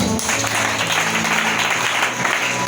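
A congregation applauds during a church sermon, with brief, dense clapping close by and a short spoken word at the start.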